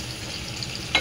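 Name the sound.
garlic frying in hot oil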